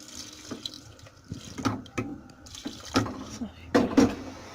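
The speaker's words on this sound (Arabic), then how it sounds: "دير الماء" Water runs from a kitchen tap while a dish of lamb's head and tripe with lemon and olives is prepared, a close, uneven splashing mixed with clatter of pots and utensils and a voice speaking.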